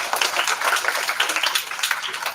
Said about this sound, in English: Big round of applause to that person.